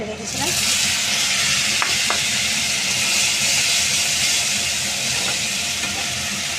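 Tomato paste added to browned onions hits the hot pan with a loud, continuous sizzle and hiss that stays strong and close throughout, with a brief word spoken early on.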